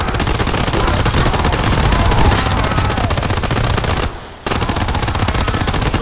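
Dense, loud machine-gun fire in Call of Duty WW2 Zombies, a nearly unbroken barrage with one brief gap before resuming.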